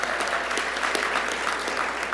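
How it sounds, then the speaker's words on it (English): Dense, steady audience applause at a Zionist Organization of America gala, many hands clapping continuously at moderate volume, close and unbroken with no talk. "She deserves the biggest round of applause"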